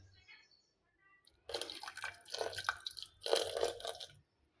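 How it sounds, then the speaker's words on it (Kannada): Water is poured into freshly churned homemade butter, giving a few bursts of splashing and wet sloshing separated by short pauses, close and fairly quiet. "ಈಗ ಇದಕ್ಕೆ ನೀರು ಹಾಕ್ತೀನಿ ನೋಡಿರಿ."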